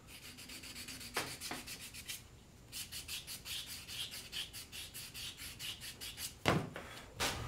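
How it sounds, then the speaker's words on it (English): Steady back-and-forth rasping of sandpaper on a wooden spatula handle, stroke after stroke in a quick even rhythm, close up, with a brief pause partway through. "A little sanding."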